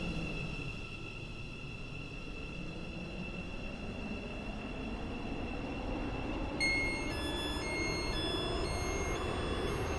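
A six-coach metro train runs steadily in the Roblox game Stepford County Railway, a continuous rumbling rail drone with a high whine, joined near the end by a chiming electronic announcement tone pattern.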